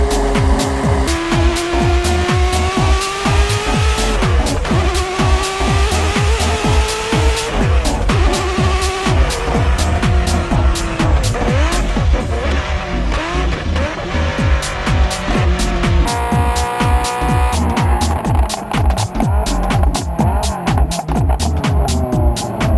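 A Ferrari F40 LM race car roars through repeated hard accelerations and gear changes, its engine pitch sweeping up and down with sharp crackles, loud and close throughout, with tire noise at times.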